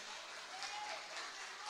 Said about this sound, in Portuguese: Você pode dar uma salva de palmas.